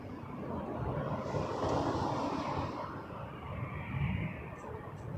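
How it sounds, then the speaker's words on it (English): A WestJet Boeing 737-800 airliner lines up for takeoff at Toronto Pearson, giving a broad, steady jet rumble at a moderate distance that swells slightly and then eases, with no talking. "737, 800 lining up next."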